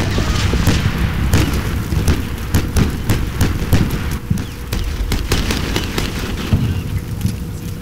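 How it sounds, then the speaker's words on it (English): Bradley fighting vehicles open fire in the war game Combat Mission: Shock Force, a steady stream of sharp booming shots and impacts over loud, dense battle rumble, with no speech. "I'm opening fire on them with the Bradleys"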